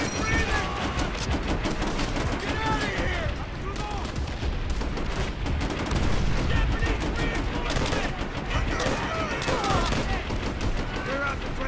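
Dense, continuous gunfire in Call of Duty: World at War, rapid shots and machine-gun bursts layered with battle noise and chatter, loud throughout.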